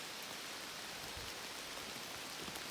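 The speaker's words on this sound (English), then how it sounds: "It's like the rain's just dripping because it's staying on the leaves, but I can really hear it hitting up on the leaves" Light rain drips and patters on fresh spring leaves along the Appalachian Trail near Great Barrington, Massachusetts, a steady, dense, close hiss that holds evenly with no pauses.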